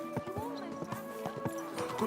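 Rhythmic clopping of horse hooves at a trotting pace, close by, with someone speaking over them, in the video game Kingdom Come: Deliverance II.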